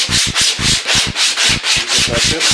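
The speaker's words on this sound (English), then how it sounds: "what I also like to do at this point is take some of like just sandpaper, and it's better you have like the one that's put on fabric" Fabric-backed sandpaper is rubbed along a guitar neck in brisk back-and-forth strokes, about nine loud, rhythmic rasping passes heard up close with no talking.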